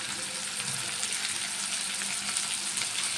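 Tomato frying in a pan for an arbi (taro root) curry, a steady close sizzle and crackle with no pauses.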